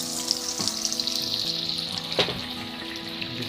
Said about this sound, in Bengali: তেলটা গরম হয়ে গেলে এক এক করে কড়ার মধ্যে ছেড়ে দিতে হবে চপগুলো।